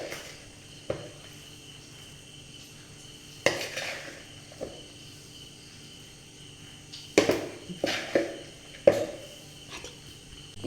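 A spoon scoops Kasaragod churumuri from a pan onto a plate, giving a few sparse scrapes and clinks spaced seconds apart over a quiet room with a faint insect hum.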